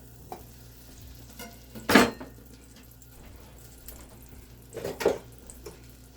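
Oil and a couple of pats of butter hit a hot pan, giving two short bursts of sizzling and stirring clatter separated by a quieter stretch of low kitchen noise.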